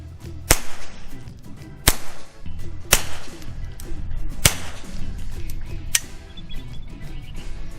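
A suppressed .22 LR rifle fires subsonic rounds through a modular baffle silencer at an outdoor range, five sharp, dry cracks spaced roughly a second or more apart, loud but low pitched, with quiet background between shots.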